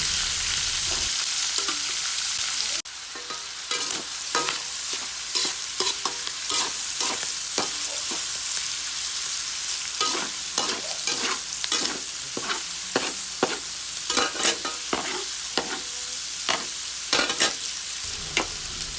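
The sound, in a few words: pork frying and being stirred until browned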